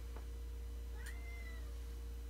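A cat gives a single rising-falling meow while demanding treats, mid-level and fairly close, preceded by a brief faint click, over a low steady hum with no talking.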